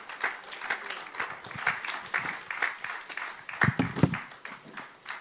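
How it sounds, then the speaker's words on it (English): A church congregation at a Friday men's meeting claps irregularly and moderately loud, scattered hand claps rising and falling in a loose, uneven patter. "clap your hands for them even as they come"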